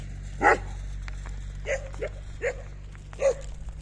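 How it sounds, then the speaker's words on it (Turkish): Dogs bark in a few short, separate bursts at a moderate distance along a hillside route near Şamata during a bicycle tour, with a steady low background hum and no talking. "Köpekler."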